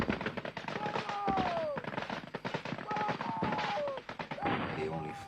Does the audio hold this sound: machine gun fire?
yes